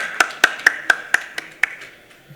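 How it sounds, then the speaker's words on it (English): A few pairs of hands clap unevenly, about seven crisp, separate claps that thin out and fade within two seconds, at a felicitation on stage for Sachin Agarwal, MD of Hilson, during a frontline worker safety panel. "Can we have a huge round of applause for Mr."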